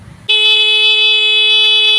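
A Rusi Macho 150 motorcycle horn sounds in one loud, steady, continuous honk that starts abruptly and holds without a break, close and alone.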